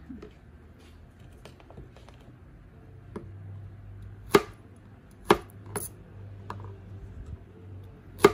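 Corned beef or vegetables being cut on a board for Filipino sinigang, a few sharp isolated knife chops spaced irregularly over a low kitchen hum, fairly near and moderately loud.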